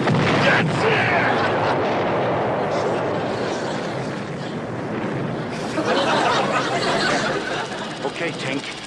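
Naval artillery salvo from British Navy ships offshore in a film battle scene, a dense, continuous roar of booming gunfire and explosions filling the whole stretch, loud and sustained with crowd-like chatter mixed in.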